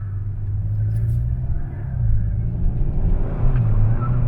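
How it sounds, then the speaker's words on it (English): A 2023 Kia K5 GT engine rumbles steadily up close, building slightly as it accelerates with brief wheel spin, a low, continuous drone and no talking. "There it is, a little wheel spin."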